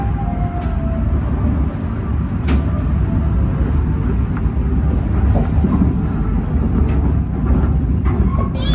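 A Banyubiru economy passenger train on the Solo–Semarang line pulls into Gundih station, giving a loud, continuous rumble of wheels and carriages with faint rail clatter and occasional squeals, close by.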